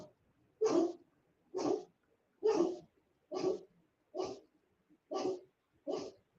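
Several dogs barking in a steady series of seven loud, close barks spaced about a second apart, with silence between them and no talk.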